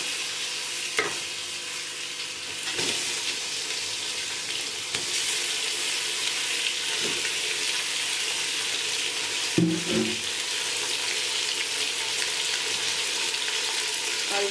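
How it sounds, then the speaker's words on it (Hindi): Chicken goes into lightly browned onions frying in a pot, giving a loud, continuous close sizzle broken by a few stirring knocks and a louder splutter partway through. "अब मैं इसमें चिकन डालूंगी।"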